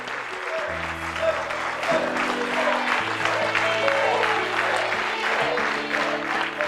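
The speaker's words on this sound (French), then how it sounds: "Naël, Naël, applaudissements pour ce garçon." Audience applause for a young performer on a café talk show, steady clapping mixed with playing music and a voice talking over it.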